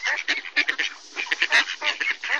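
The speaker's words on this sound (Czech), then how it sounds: "No, jsou tam kačenky." Several ducks quack in a noisy, overlapping chorus, close and fairly loud, with rapid uneven calls throughout.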